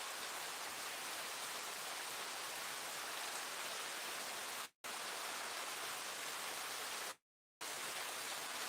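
Steady rain falls on a dark, rainy-season day as a loud, unbroken hiss, cut by two brief gaps of silence.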